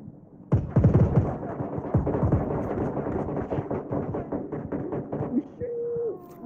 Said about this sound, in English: Oh shit, they're getting sniped.